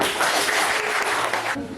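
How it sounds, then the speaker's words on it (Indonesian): A classroom group gives a short burst of steady applause for a presenter, dense and close, fading abruptly toward the end. "Yuk, tepuk tangan untuk Lorna"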